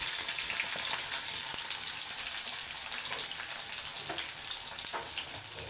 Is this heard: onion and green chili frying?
yes